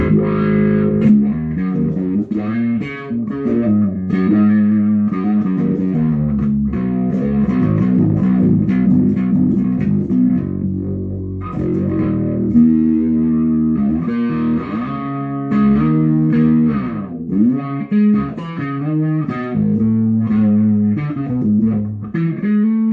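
A bass guitar plays a continuous line of sustained, sliding notes through a wah pedal and then a Brown Trout Bass Overdrive pedal, with gritty, loud, overdriven tone. No talking is heard.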